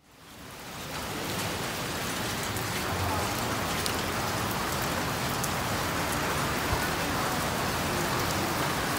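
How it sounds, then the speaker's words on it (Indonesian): Steady rain pours down around a Japanese hot spring resort, a dense, even hiss that swells in within the first second and then holds loud and continuous, with occasional heavier drips and no voices. "Lagi hujan"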